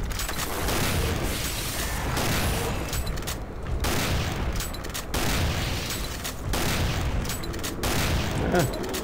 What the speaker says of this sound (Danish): Ja, det sidste skud var der.